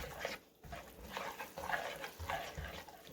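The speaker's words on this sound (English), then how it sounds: "And stir, stir, stir, stir." Bread batter of whole wheat flour, baking soda and salt being stirred in a bowl, a steady close scraping and swishing with a brief pause near the start.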